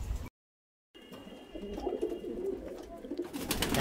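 Pakistani pigeons coo softly in a loft, a low burbling chorus of several birds close by after a brief drop to silence.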